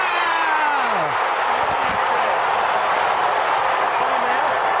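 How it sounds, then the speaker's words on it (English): A packed rugby stadium crowd roars wildly after a try, a dense, loud, sustained wall of cheering with whistles and shouts mixed in. "The crowd have gone absolutely berserk."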